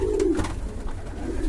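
A male pigeon coos in low, throaty rolls, close by and steady, with soft background rumble throughout.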